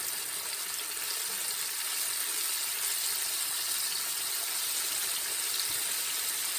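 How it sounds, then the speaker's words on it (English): Pork ribs frying in a pan of hot grease, giving a steady, dense sizzle that holds evenly throughout at moderate loudness, with no voices. "drop them in that grease. And I'm going to give it maybe about 12 to 15 minutes"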